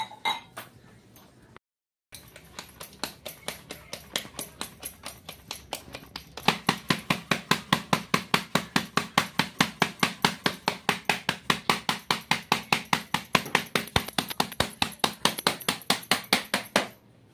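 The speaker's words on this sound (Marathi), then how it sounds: "आता मी करते बाजरीच्या 2 भाकरी" Hands patting bajra millet dough into a flatbread, a fast steady run of sharp, loud slaps, close up, following a few slower pats and a brief pause.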